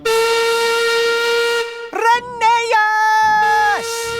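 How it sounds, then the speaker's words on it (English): A steam engine whistle blows long and loud in a cartoon, a strong steady tone that breaks off, wavers and sounds again in several sustained blasts, close and alone. "So Peter Sam whistled as long and as loudly as he could."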